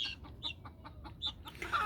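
Chickens cluck in a rapid string of short, sharp calls at a quiet to moderate level over low background noise, ending in a louder, harsher burst.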